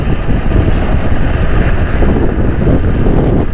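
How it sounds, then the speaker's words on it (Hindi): Strong cold wind buffets the microphone on a bike ride from Johar Mor to Sadar Market, a loud, steady roaring rumble filling the whole stretch with no break. "बड़ी ज़बरदस्त किस्म की हवा चल रही है।"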